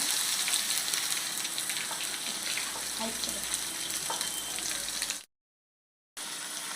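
Cumin seeds and tomatoes fry in hot oil with a continuous close sizzle and crackle that cuts out briefly near the end, then resumes.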